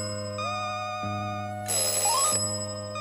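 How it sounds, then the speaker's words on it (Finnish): An electronic telephone ringtone trills at night, a steady warbling ring that continues close and loud for the whole stretch with no voices. "No mutta, kuka soittaa keskellä yötä?"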